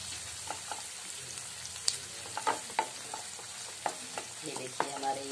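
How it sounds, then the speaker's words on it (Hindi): Onion and capsicum sautéing lightly in a pan for chilli chicken, a soft low sizzle broken by repeated scraping stirs and spatula taps at a steady, unhurried rhythm. "प्याज और शिमला मिर्च जो है वो सॉटे हो रहा है"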